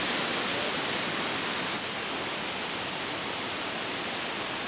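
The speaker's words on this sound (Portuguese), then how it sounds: "Essa aqui é a Cachoeira do Recanto Verde." Cachoeira do Recanto Verde in Chapada Diamantina roars as a continuous broadband rush of falling water, loud and unvarying throughout, with no voices.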